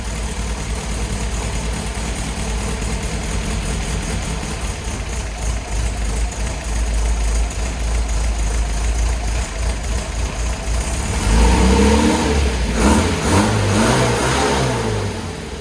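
A long-neglected Marlin engine, coaxed with choke, runs loudly and roughly with a deep steady rumble, then revs up harder near the end, close by with no talking.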